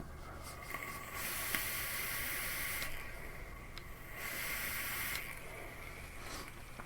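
Vapour is drawn through a Reverie single-coil RDA in three long, breathy hissing pulls, each rising and falling in turn, heard close up with no talking.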